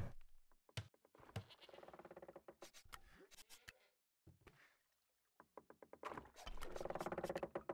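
Goat and sheep bleating in the city-building game CivCity Rome, repeated close bleats with wooden knocking and short gaps of near silence between them.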